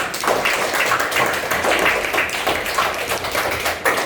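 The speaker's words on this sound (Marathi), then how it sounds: "प्रणयसाठी टाळ्या वाजवा." Children clapping together for a classmate during a find-a-friend activity, a steady burst of fairly close, lively applause lasting a few seconds.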